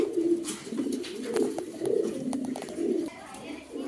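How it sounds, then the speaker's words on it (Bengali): A male Modern Blondinette pigeon coos in soft, repeated low throaty phrases close by, with a faint background murmur of other birds. "মডার্ন ব্লন্ডিনেট নর কবুতর ভাই"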